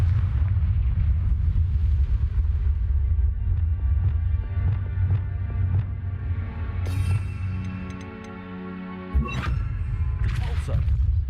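Confringo blasting spell in the video game Hogwarts Legacy, a loud booming explosion that rumbles on continuously, with crackling debris and a sharp burst near the end.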